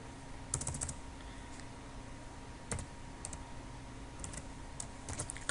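Quiet bursts of computer keyboard typing, short runs of quick clicking keystrokes separated by pauses, close but faint with no voices.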